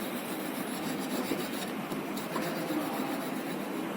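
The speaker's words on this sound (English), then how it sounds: "After that, you want to make more smooth, you can use the rasp." A rasp is drawn back and forth across wood, shaping a cross halving joint with a steady, close scratchy rubbing that continues without pause and has no talk over it.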